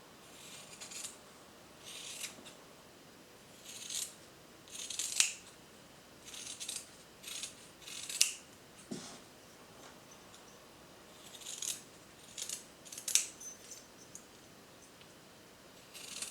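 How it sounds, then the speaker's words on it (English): Scissors snip through the back piece of fabric of a sewn textile star decoration, a scatter of short crisp cuts and faint rubbing at close range with pauses between, in a quiet room. "you're going to get your pair of scissors and just cut that back piece of fabric"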